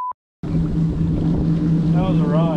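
A motorboat roars past at very close range after a brief pause, its engine a steady low drone with broadband wash of churned water, loud and continuous for about two seconds while someone aboard a small fishing boat makes a short vocal sound near the end.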